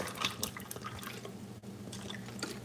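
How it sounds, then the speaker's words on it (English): Spring water poured from a bottle into a pan while sautéing banana flower, a steady close splashing and trickling with drips, no voices. "Drop some spring water in here."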